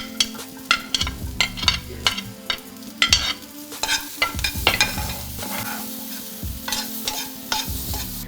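Cauliflower, beans and carrots sauté in a pan, a bright sizzle under frequent clattering stirs and spatula scrapes that come in quick irregular bursts, with no talking.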